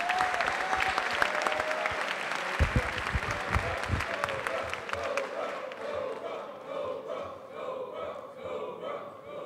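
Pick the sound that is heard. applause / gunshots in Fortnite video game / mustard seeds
applause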